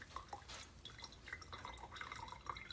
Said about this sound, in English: you hear how much more water is coming out?